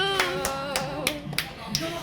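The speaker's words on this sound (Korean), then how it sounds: "박수." A handful of sharp, evenly spaced hand claps, roughly six, ring out at a small year-end gift exchange among friends, with a steady tonal hum and murmur running underneath.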